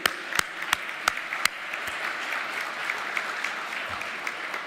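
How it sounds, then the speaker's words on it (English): An audience applauds at a youth service conference, with a few sharp, distinct claps at the start giving way to a steadier, softer spread of clapping across the room. "So I want to give a big applause first to Valerie and the OAS team and YBT."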